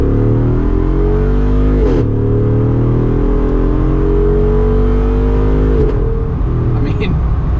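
A V8 Jeep Wrangler accelerates hard from inside, its engine roaring steadily and loudly as the pitch climbs through a gear change, with a person talking over it.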